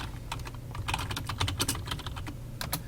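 A search being typed on a computer keyboard, a quick run of light, close key clicks in an irregular rhythm over about three seconds, with no talking.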